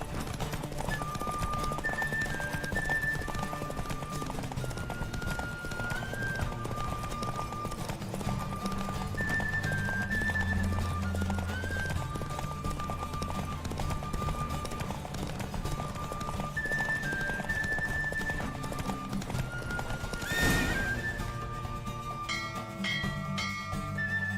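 Galloping horse hooves clip-clop in a steady rhythm in The Witcher 3: Wild Hunt, beneath a looping musical score, with a brief whoosh near the end.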